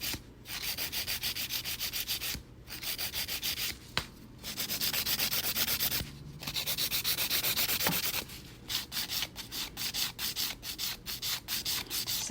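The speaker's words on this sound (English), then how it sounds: "you want to hit it with your good, nice hard file that I just prepped" A hard nail file works over a sculptured gel nail, filing away excess in a corner with steady rough rasping strokes in bursts broken by short pauses, close and fairly loud, with no talking.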